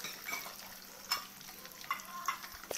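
Nuts and raisins frying in a pan for Kerala-style vegetable fried rice, a soft, low sizzle with a few sharp clicks and scrapes of stirring, close and fairly quiet, no voices.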